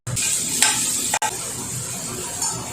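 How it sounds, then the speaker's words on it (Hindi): Green chilli, nigella seeds and salt frying in mustard oil in a pan, giving a steady close sizzle with a few stirring scrapes and a brief clink partway through. "मस्टर्ड ऑयल में हरा मिर्च, कलौंजी दे दूंगी और नमक डाल के मैं इसे थोड़ी देर फ्राई कर लूंगी।"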